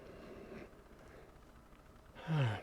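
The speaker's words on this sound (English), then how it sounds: "Breathing out, breathing in again." A person breathes out and then in during a yoga session, a soft exhale followed by a louder, rising inhale near the end, close by with no speech.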